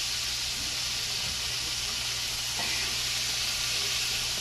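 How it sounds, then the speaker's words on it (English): Chicken livers sizzling and frying in a pan of hot oil, a steady dense hiss with faint crackle, continuous and close with no talking. "Okay, so I got my chicken livers frying"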